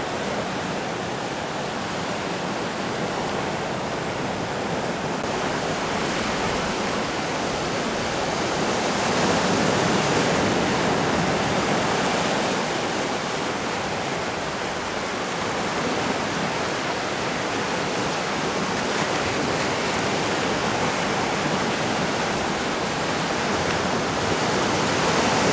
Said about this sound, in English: Look at this ocean.